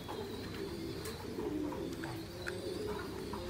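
Pigeons on a pigeon farm coo softly and intermittently over a constant low background hum, with occasional faint chirps.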